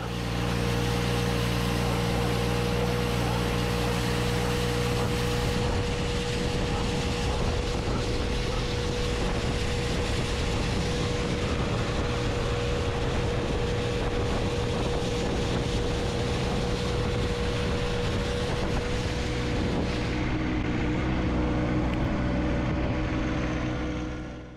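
A John Deere 1025R tractor with a snow broom attachment drives along at close range, a loud continuous engine drone with a steady hum and wind buffeting that holds throughout before fading out at the end.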